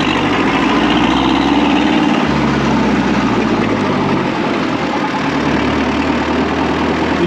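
A Deutz diesel engine fitted in a 4x4 expedition truck, idling loud and close with a steady low rumbling knock and slight shifts in pitch, no voices over it.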